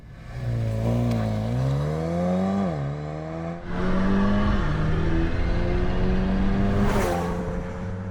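A 2023 Mercedes-AMG CLA 35 engine revs up and drops back, rising again with a sharp pitch climb near the end, loud and close with no talking.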